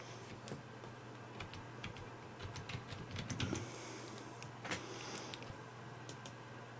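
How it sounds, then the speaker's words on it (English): Quiet clicks and taps of typing on a computer keyboard while setting up a Windows PC and searching for updates, with scattered irregular keystrokes over a low steady hum. "I'm going to hit the Windows key on my keyboard, and I'm going to type in updates"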